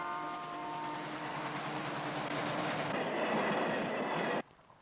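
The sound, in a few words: nickel ore train on railway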